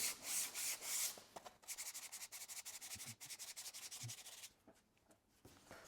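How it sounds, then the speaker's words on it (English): Close, quiet hand sanding of an 18 mm fiberglass airframe tube with 240-grit sandpaper, with rhythmic back-and-forth rubbing strokes in short bursts that pause near the end. "I like to polish them real quickly with 240 and then 400 grit sandpaper."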